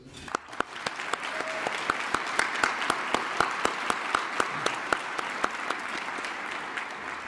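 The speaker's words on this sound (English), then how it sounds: "I want to ask one more big applause for them too" Gala audience applauding at an anniversary awards evening, steady clapping from a large room with sharp individual claps standing out throughout, heard alone.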